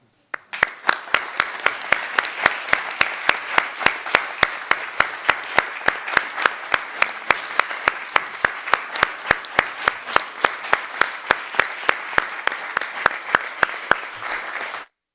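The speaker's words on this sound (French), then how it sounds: "j'aimerais d'abord qu'on vous applaudisse" An audience at a Montreal school board commissioners' meeting claps in a steady, even rhythm for about fifteen seconds. The sharp, regular claps stay close and loud from start to finish with no talking.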